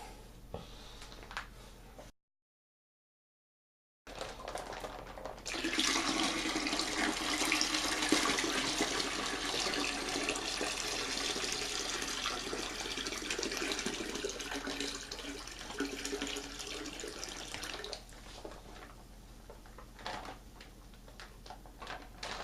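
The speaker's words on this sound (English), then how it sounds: "fill it with some water, swish it around in the bag, and pour it in" Steady rushing pour of water into a plastic wine-fermentation pail, loud and continuous for many seconds after a brief gap, tapering off near the end as the level nears the 5-gallon mark.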